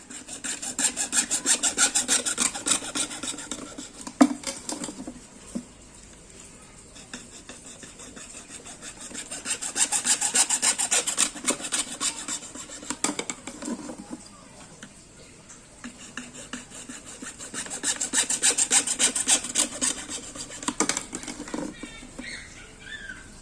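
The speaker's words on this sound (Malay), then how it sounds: "Sekarang ni saya dah nak mula potong menggunakan kita punya gergaji ni" Hand saw cutting PVC pipe with slow back-and-forth rasping strokes, grouped in three long bursts of sawing separated by quieter pauses, fairly faint and without talk.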